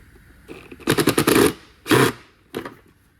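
Pneumatic impact gun buzzing on screws around the evaporator housing of a 2013 Ford Taurus, a long rattling burst followed by two shorter bursts, close and loud.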